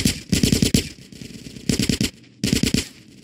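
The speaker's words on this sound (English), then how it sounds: "Get some suppressing fire in there!" Rapid automatic gunfire in GTA San Andreas, loud close bursts of machine-gun fire in three clusters separated by brief lulls, with no talk over them.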